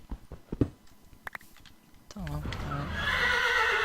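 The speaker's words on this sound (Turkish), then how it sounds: "Lan kişneme kişneme." A horse in the Minecraft video game gives a loud, wavering neigh that rises and then trails off. Brief clip-clop taps of hooves come before the neigh, and someone speaks at the same time.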